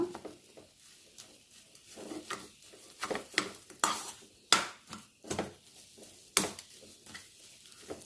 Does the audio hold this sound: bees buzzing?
no